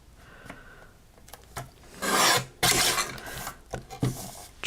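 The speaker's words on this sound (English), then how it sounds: "trim these red pieces off" Red paper pieces being trimmed for card making: a series of dry rasping scrapes and rubs, louder bursts in the middle, close and fairly faint, with no talk.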